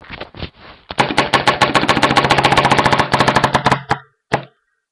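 A Power G3 paintball gun with a 14-inch barrel fires on low air, a loud, rapid burst of sharp pops in a steady stream lasting about three seconds, preceded by a few scattered shots and followed by one last pop.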